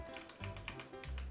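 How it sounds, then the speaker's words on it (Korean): Taps on a computer keyboard, a short run of about seven irregular keystrokes, close and fairly clear, while someone sets up C-language code in Visual Studio. "여기서 타이핑을 이렇게 해볼게요."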